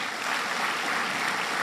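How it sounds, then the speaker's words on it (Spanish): A church congregation claps for mothers on Mother's Day. The applause is dense and steady, fills the space for a short stretch, and no voice can be heard over it. "las madres son dignas de que nosotros le demos un aplauso en el Señor"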